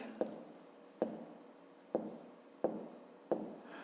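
Numbers are written by hand in a math exercise, heard as five evenly spaced, quiet taps and strokes of a pen or pencil on paper, close and clear in a hushed room.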